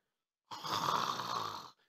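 A voice imitates a single long, raspy snore, loud and close, lasting just over a second against silence.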